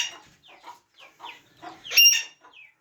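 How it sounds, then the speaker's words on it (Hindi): Chickens cluck nearby in a yard, a series of short, irregular clucks with one louder squawk near the end, with no talk. "ये मुर्गियाँ इधर आ जाओ"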